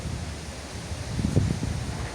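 Strong wind blows through a rose garden, buffeting the microphone with a steady low rumble and rustling hiss that swells slightly midway.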